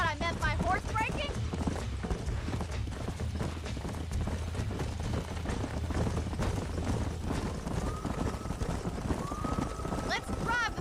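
Horses galloping during a horse-breaking scene in the Red Dead Redemption video game, a steady busy run of hoofbeats with occasional whinnies, mixed under game music and talk throughout.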